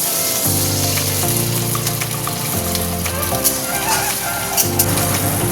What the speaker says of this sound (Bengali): যে বড়াগুলো ভাজলাম সেগুলো ঢেলে দিলাম, আর দেবো অল্প একটু জল